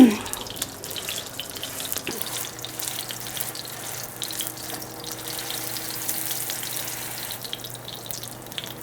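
Chicken toast frying in a pan over a low-medium flame, a continuous gentle hiss and crackle holding steady after a brief louder clatter at the start.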